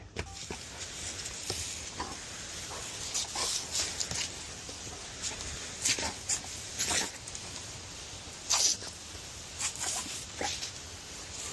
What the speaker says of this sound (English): You dumb dog.